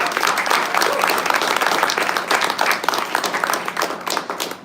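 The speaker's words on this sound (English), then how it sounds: "so let's give a round of applause for Kevin Sullivan." Dinner guests at a mobility justice networking event give a warm round of applause, dense, close clapping that swells and then gradually thins over several seconds.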